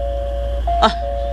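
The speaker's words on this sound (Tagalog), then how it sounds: "Itanara ko kinsay nag-doorbell nang." A single doorbell ring sounds as a short, bright chime midway through, over a steady low hum and a constant faint background tone, with no talking.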